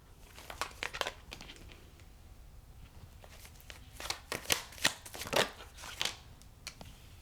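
Tarot cards shuffled by hand in a reading, giving bursts of crisp papery riffling and flicking that grow denser and louder toward the end, close up with no talk.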